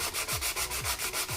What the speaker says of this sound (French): Voilà, j'ai fini de poncer.